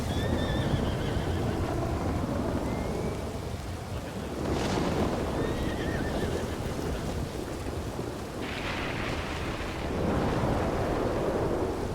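Horses neighing and whinnying in Red Dead Redemption roleplay on WildRP, several rising whinnies spread over a constant roar of rain or storm noise, with hoofbeats mixed in and no voices.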